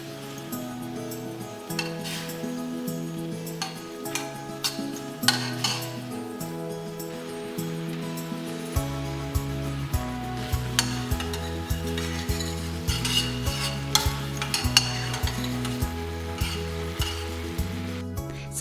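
Blueberry sauce simmering over medium heat in a pan, with a soft steady sizzle and bubbling, light scrapes and clinks from stirring, and a quiet background hum throughout.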